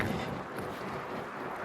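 Strong wind blows at the seashore during a sea clam hunt, a broad, steady rushing roar buffeting the microphone, brief and alone without talk.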